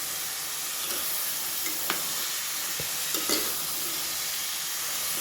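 Beans and carrots frying in a pan as they are stirred, a steady bright sizzle with a few soft scraping spoon strokes, close and without talk.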